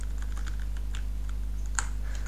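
Computer keyboard keys, Control held while arrow keys are pressed, click in quick irregular taps at close range over a steady low hum, with one sharper, louder keystroke near the end.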